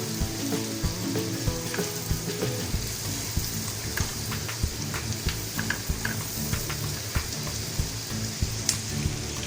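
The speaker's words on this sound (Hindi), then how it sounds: "और अब इसको हम अनियंस का एक कलर चेंज होने तक इसको कुक करेंगे." Onions sizzling and frying steadily in a pan over medium-low heat while cooking mac and cheese, with a dense, continuous crackle, occasional small pops and faint stirring scrapes close by.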